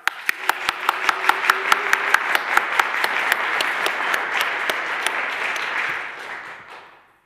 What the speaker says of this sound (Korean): 다시 한번 진짜 손바닥이 부서져라 열광적으로 박수 시작!